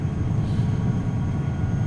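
Steady cockpit drone of a Challenger 300 business jet cruising in a flight simulator, a continuous low engine rumble with a faint high whine and no talk.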